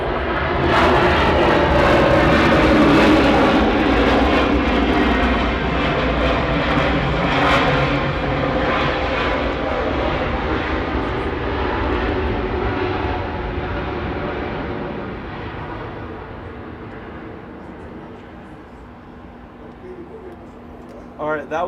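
An airliner arriving at Atlanta airport from Indianapolis gives a loud, steady jet rumble that gradually fades as it passes and rolls away, with no talk over it.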